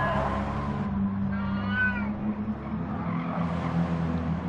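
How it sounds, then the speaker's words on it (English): A cat lets out drawn-out, wavering screaming meows near the microphone, with the hum of an auto racing stream playing underneath. "Apologies for the cat screaming."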